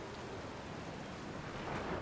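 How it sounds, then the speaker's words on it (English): A steady, dense wash of rain hisses through a thunderstorm in the video game Outer Wilds, with a low rumble underneath that swells slightly toward the end. There is no talking. "That must be the normal lightning."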